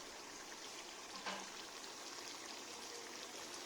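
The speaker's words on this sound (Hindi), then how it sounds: "और अभी हम पानी डालने लगे हैं।" Water poured into a cooking pot of beef nihari after browning with yogurt, a steady broad hissing and splashing stream running throughout, fairly soft and unbroken, with no voices.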